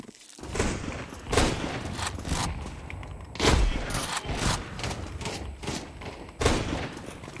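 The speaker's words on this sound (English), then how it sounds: "Throwing fire. Incendiary. Flashbang." Incendiary and flashbang grenades go off in the video game Counter-Strike 2, with several heavy booms and thuds breaking through a busy background of gunfire and game noise at irregular intervals.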